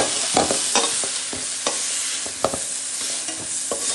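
Eggplant pieces fry in hot oil with a constant close sizzle, while a spatula knocks and scrapes against the pan in a steady stirring rhythm.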